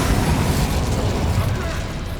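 Incendio fire spell cast in Hogwarts Legacy, a loud burst of roaring flame and rumbling blast that fades slightly toward the end, with a voice over it.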